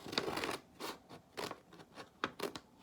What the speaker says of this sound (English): You get a pair of scissors and you cut just to the middle panel